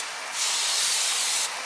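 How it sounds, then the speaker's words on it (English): A spray bottle full of vinegar gives one sharp, close hiss of spray that lasts about a second, with quiet room tone on either side. "Then I take my spray bottle full of vinegar and just"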